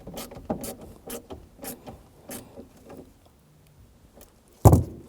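A wrench tightens the negative battery terminal on a 2007-2013 BMW 328i, a series of quiet clicking ratchet strokes followed by a pause and a sharper knock near the end.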